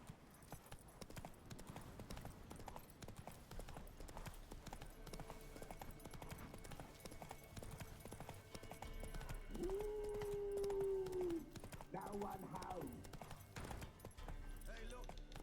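Horse hooves clip-clopping at a steady trot in The Witcher 3, moving along beneath game music and ambient sound, with a brief tonal whinny-like call partway through; someone speaks.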